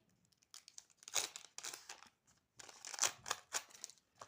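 Paper crinkles and rustles up close in quick bursts, like a small packet being torn and opened by hand, fairly quiet and uneven.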